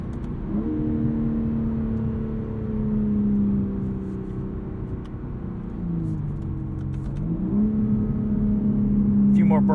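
A 2021 BMW M3 Competition engine hums and shifts pitch while driving from inside the car, a steady drone that drops, then rises again, with faint crackling pops near the end.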